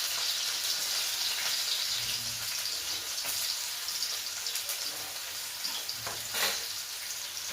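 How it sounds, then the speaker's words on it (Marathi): Chopped onion sautéing in oil in a pan for semolina upma, a steady close sizzle and fry with occasional stirring scrapes, no voices. "त्यानंतर कांदा परतून घ्यायचा"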